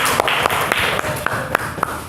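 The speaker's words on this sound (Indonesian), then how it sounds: "Kita beri aplaus buat teman kalian." A classroom of students claps for a classmate, with a steady patter of applause and a few sharper, evenly spaced claps standing out.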